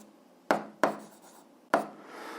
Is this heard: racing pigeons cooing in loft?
no